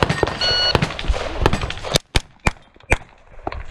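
Sharp gunshots ring out in quick single cracks, a cluster of loud close reports followed by a few spaced shots over a noisy background, with a voice briefly present.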